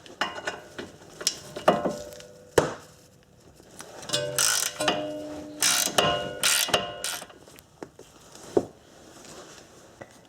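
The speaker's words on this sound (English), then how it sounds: "Let me grab a ratchet." A ratchet wrench clicks in rapid bursts on a Subaru during a ball joint replacement, close and loud, with metallic knocks and tool clanks between pauses.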